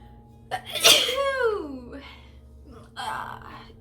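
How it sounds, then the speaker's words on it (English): A single sharp sneeze bursts out, loud and close, with a breathy intake before it and a brief voice afterward. "I feel a sneeze coming on."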